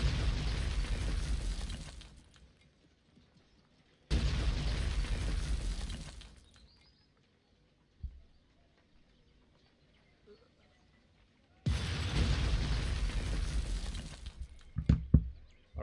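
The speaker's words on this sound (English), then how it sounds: "Some fireworks here just to end the game." Fireworks mark the end of a video game match with three loud, broad whooshing bursts, each lasting about two seconds, separated by near-silent gaps and followed by a few sharp pops.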